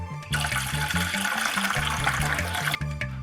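Water runs steadily for about three seconds while tea is being made at home, a splashing pour that starts and stops abruptly, with no talk.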